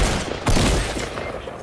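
Burst of video game gunfire during a multiplayer shootout, a rapid volley of shots starting sharply and rattling on densely to the end, loud and close.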